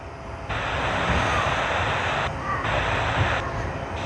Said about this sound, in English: let us capture some landing action out there